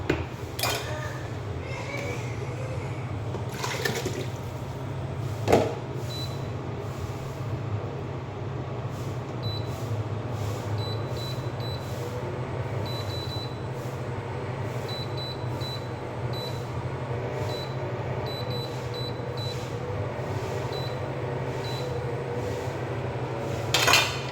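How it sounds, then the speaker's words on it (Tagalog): Dishes and cutlery clink and clatter in a sink under steady running water, with occasional louder knocks and faint beeps in the background. "maghuhugas muna ako ng pinggan"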